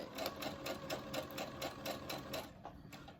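A sewing machine stitches down the fabric of a homemade double-layer face mask, a fast even rhythmic clatter of the needle running steadily close up before trailing off near the end.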